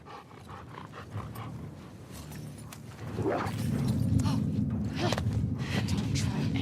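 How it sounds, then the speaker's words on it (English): A dog barks and growls in the video game The Last of Us Part II, a rough canine outburst rising midway over a continuous game soundscape. "this is a dog"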